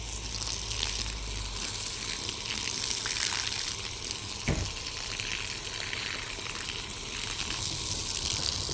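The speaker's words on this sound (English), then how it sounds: "Go ahead and water this dill." Dill plants in a garden being watered, a steady hiss of spraying and splashing water over foliage with a brief soft thump midway.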